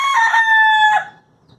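An indoor rooster kept upstairs in a house crows once, close and loud, a bright drawn-out call that breaks off and fades into near silence, no talking.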